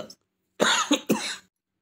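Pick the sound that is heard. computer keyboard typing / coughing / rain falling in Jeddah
coughing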